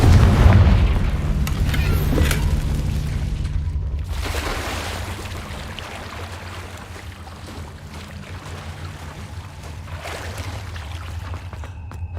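A fiery Confringo spell blast in the video game Hogwarts Legacy, a loud deep boom that rolls into a long, heavy rumble and slowly fades over several seconds, with no voices.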